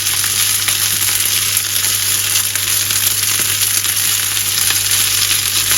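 Grated potatoes for rösti frying in fat in a hot pan, a steady even sizzle and crackle with no talk, close and constant throughout.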